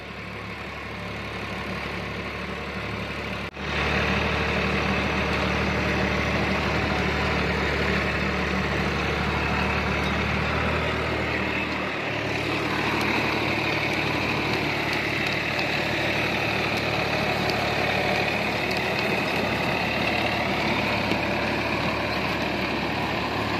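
A Massey Ferguson Smart 245 DI tractor, a 45 HP machine fitted with a Fieldking rotavator, idles with a steady low rumble that jumps louder after a few seconds and then keeps droning evenly and close, with no voices.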